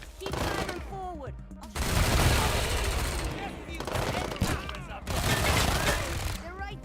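Rapid automatic gunfire in a video game, loud sustained bursts separated by short pauses, with voices talking over the shooting.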